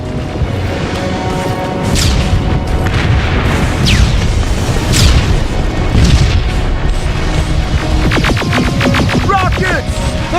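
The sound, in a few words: incoming rockets exploding in Terminator Resistance video game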